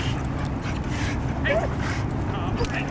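Two dogs meeting indoors give off high whimpers and short yips over steady background noise, while a person talks throughout.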